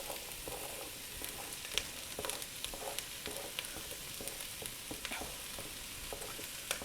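Chopped onions and garlic sizzle in a heated pan as they sauté for a marinara sauce base. A steady, moderate frying hiss runs throughout, broken by scattered clicks and scrapes of stirring, with no voices.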